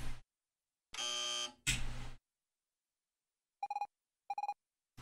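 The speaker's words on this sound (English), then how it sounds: "When you hear the buzzer, move to the right." A loud electronic buzzer in the video game Evoland blares twice, then after a pause two pairs of short beeping tones sound, alone against silence.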